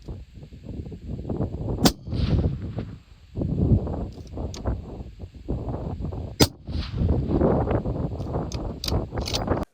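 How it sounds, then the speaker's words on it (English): A rifle fires a group of shots in outdoor range tests, each report a sharp, distant-sounding crack, with two clear shots standing out over a steady rumble of wind or background noise and no talk. "Let's shoot a group."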